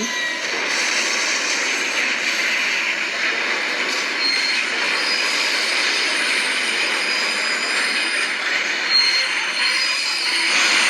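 A TRE commuter train rumbles steadily past a level crossing with a continuous rushing roar and faint metallic squeal, sustained and fairly close throughout.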